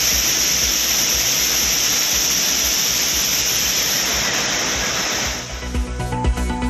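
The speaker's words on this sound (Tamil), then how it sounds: "ஆர்ப்பரிக்கும் வெள்ளத்தால் குற்றால அருவிகளில் குளிக்க தடை." Roaring floodwater pours over the Courtallam waterfalls, a loud, continuous broadband rush that dominates throughout, easing slightly near the end.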